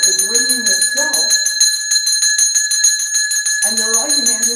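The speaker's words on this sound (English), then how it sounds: "The bell is ringing itself" A bell rings continuously with a bright, rapid metallic shimmer, while a voice talks over it at the start and end.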